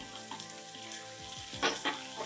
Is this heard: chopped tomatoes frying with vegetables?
yes